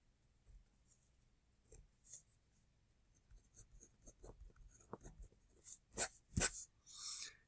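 A pen or marker writes out a math equation in short, faint scratching strokes, sparse at first and then quicker and louder toward the end, with no talk.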